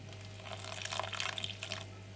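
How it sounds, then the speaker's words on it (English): Water trickles and drips into a bowl of flour for roti dough, a faint, short run of small splashes in a quiet kitchen. "I'm going to have to put some more water in there just to make the dough"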